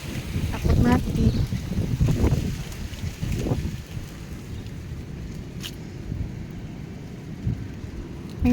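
Strong gusty wind sweeps through a Jakarta home garden where basil and other plants sway, giving a broad roaring rush with heavy microphone buffeting that surges, eases, then rises again.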